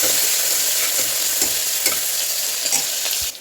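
A medium onion and two green chillies saute in a hot pan, giving a loud, steady close sizzle broken by regular soft scrapes of stirring, with a clatter at the very end; no speech.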